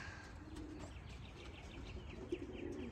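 Racing pigeons coo softly at a loft after an old bird race, low gentle calls repeating over a steady background hum, with faint chirps and a brief flutter of wings.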